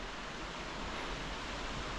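A waterfall in the Cloud Peak Wilderness of Wyoming rushes as a faint, steady wash of falling water, unbroken and distant-sounding across the short stretch.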